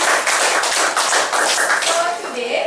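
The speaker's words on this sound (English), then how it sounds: "Give a big clap." A class of Year 3 schoolchildren claps together in a classroom, a burst of loud, rapid, uneven hand claps lasting a couple of seconds, with some voices mixed in.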